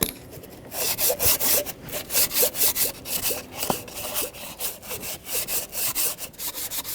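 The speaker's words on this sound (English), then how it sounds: "Just keep sanding all the way around till you get a nice smooth surface" Repeated rough rasping strokes of hand sanding, steady back-and-forth rhythm, close and fairly loud with no talking.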